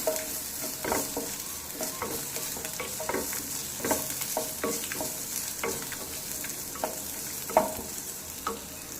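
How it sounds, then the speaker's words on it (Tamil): Crushed garlic fries in a pan while a spoon stirs it, giving a steady sizzle broken by repeated scraping strokes at close range. "இடித்து வச்சுருக்கிற பூண்டை ஆட் பண்ணி நல்லா கிளறி விட்டுக்கலாம்"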